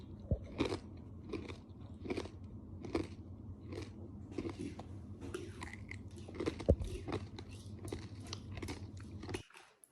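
Someone bites and chews a crispy chocolate puffed rice snack made by toasting rice in a wok, producing close, loud crunches in an irregular rhythm that continue until a sudden stop.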